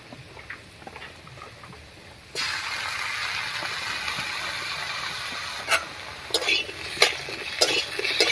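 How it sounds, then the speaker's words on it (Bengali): Ginger paste starts sizzling in a hot pan with fried papaya, followed by a few scraping stirs against the pan bottom. "আদা বাটা দিয়ে একটু নাড়িয়ে নিয়েছি"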